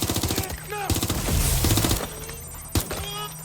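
Gunfire from Watch Dogs Legion: rapid bursts of automatic weapon fire, loud and close, with sharp repeated cracks over layered game sounds and shouted voices.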